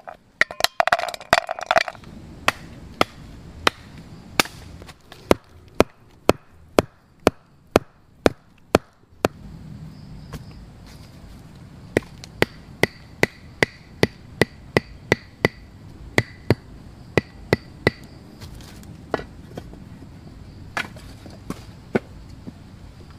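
Sharp, regular chopping blows with a blade on a tough outer skin, peeling it away at a forest campsite; a rapid burst at the start, then a steady run of evenly spaced, close, loud chops, with no speech.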